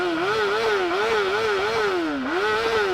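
A Honda CBR1000RR motorcycle engine revs loudly and close, its pitch rising and falling in a steady repeating wave over about three seconds.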